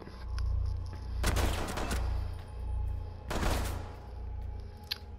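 Revolver gunfire in the video game Rainbow Six Siege, two loud bursts of shots about two seconds apart over a steady low game hum, with no talking.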